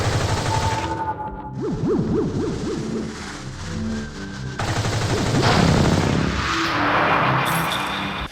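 Video game gunfire from Dreams of Another comes as dense bursts of rapid shots and booming blasts over a steady, noisy din. Whooshing sweeps run through it and no one speaks.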